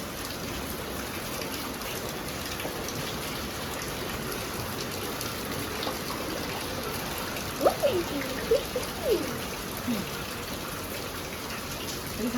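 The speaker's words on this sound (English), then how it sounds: "And it's raining," Steady rain falls outdoors during laundry washing, a constant soft patter of drops on surfaces throughout, with a few brief louder splashes and knocks near the end and a voice faintly present underneath.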